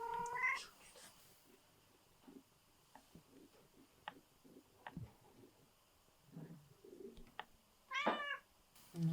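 A cat meows a few times, once at the start and again near the end, with quiet shuffling and faint ticks in between.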